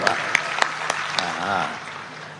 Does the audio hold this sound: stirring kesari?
no